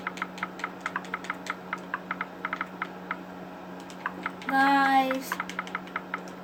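An Xbox controller clicks in quick, irregular bursts of sharp near taps while browsing Google, with a steady hum underneath and a brief voice breaking in partway through.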